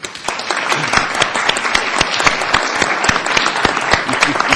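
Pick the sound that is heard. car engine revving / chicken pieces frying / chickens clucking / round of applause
round of applause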